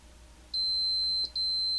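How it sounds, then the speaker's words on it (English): Two electronic beeps from a repaired, battery-damaged 486 VLB motherboard: a long steady tone of about three-quarters of a second, a short break, then a second tone, loud and close over quiet background hiss. "Get some beep action going."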